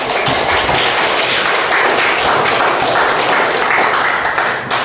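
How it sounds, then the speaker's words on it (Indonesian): Loud, sustained applause from a class group fills the whole stretch, many hands clapping close by in a dense, continuous roar. "mari kita tepuk tangan sekali lagi"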